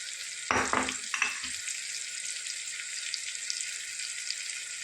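Turmeric, red chilli, garam masala, coriander-cumin powder and hing hit hot oil in a pan, a sharp burst of sizzling and stirring that settles into a steady hiss, with no talking.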